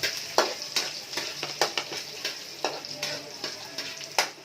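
Garlic sautés in a pan with a steady close sizzle, punctuated by regular scraping stirs every half second or so, with no voices over it.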